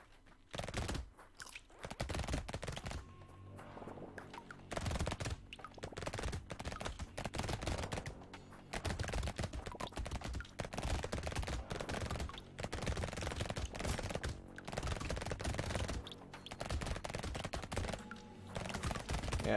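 Rapid SMG fire from the arena shooter Brotato, dense crackling bursts repeating almost nonstop at steady loudness, with brief gaps between volleys and no talk.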